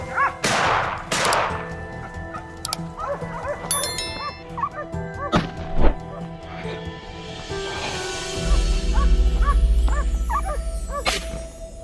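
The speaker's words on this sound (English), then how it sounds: "The barking of the hunting dogs and the shouts of my teammates ramped up the tension" Hunting dogs bark during a wild boar hunt, with several sharp barks and yips scattered over the first seconds, crows cawing and a gunshot-like crack in between, and a low rumble building near the end.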